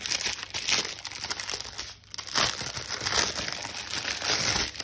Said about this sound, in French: Alors, bon, on va ouvrir rapidement le diamant